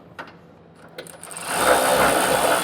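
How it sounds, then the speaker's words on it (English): Bolts on a B&W Turnoverball underbed gooseneck trailer hitch bracket in a 2025 Chevrolet are tightened with a wrench. A few light knocks are followed by a loud, steady mechanical whirring in the second half. "we're going to need a wrench on one side to get it all snugged down"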